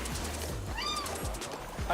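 A cat meows in Final Fantasy XIV, a short rising cry set over a busy game soundtrack with rhythmic low thumps and a brief bright chime.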